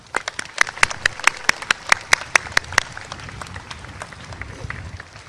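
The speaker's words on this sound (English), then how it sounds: "Please give them a round of applause." A commencement audience breaks into a round of applause, with sharp, evenly spaced claps standing out over a dense crowd patter for about three seconds before fading into scattered clapping.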